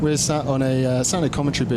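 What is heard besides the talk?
No distinct noise like a dog, phone or traffic.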